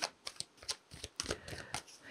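Tarot cards being shuffled by hand, a quick series of crisp riffling snaps and papery slides, close and fairly quiet, with no talking.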